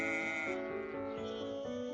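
A goat bleats in a steady, drawn-out wavering cry lasting about two seconds, loud and close with no talking.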